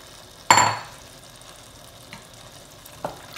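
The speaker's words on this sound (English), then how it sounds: "we're going to go in with our diced tomatoes" Diced tomatoes land in a hot pan with a sharp sizzling burst that fades quickly, followed by a couple of faint scrapes of stirring.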